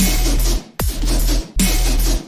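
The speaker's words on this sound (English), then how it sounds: "I made a small remake of the Portal drop" Remade Portal bass drop: heavy sustained bass chunks with a loud distorted top, in three long bursts separated by brief cuts, one featuring a sharp downward pitch sweep.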